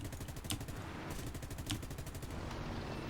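Aircraft guns firing in a WWII-style video game dogfight between a Spitfire and a Bf 109, with two short rapid bursts of machine-gun fire over a loud continuous engine drone and no talk.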